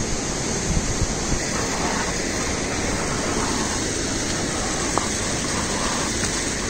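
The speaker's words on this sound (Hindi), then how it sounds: "ये रिस्पना नदी अलग अलग रूपों में नीचे की ओर आ रही है" The Rispana river rushes down Shikhar Fall, a hidden waterfall near Dehradun, as a loud, steady, unbroken roar of falling water heard up close with no voices.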